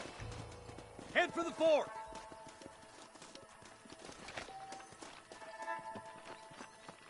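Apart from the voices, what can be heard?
horses in the video game Red Dead Redemption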